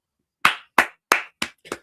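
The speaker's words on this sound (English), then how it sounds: "Round of applause for you." Five sharp, separate hand claps from a single person ring out at a steady, slightly quickening pace, close and crisp, with silence between them and no other sound.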